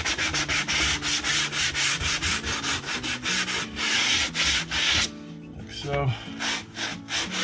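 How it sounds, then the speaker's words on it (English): Sandpaper rubs back and forth along the edge of a wooden drawer bottom in quick, steady rasping strokes, loud and close, then stops near the end as a voice briefly speaks. "I'll just take a little bit of sandpaper and clean up the edge"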